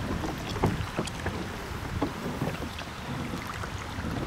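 An Old Town pedal-drive kayak pushed through seaweed on open water, with a steady wash of water and wind noise broken by scattered splashes and knocks from the drive.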